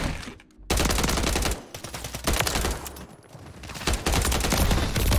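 Submachine gun fire in a video game, loud, rapid bursts of automatic shots in long strings with brief pauses between volleys.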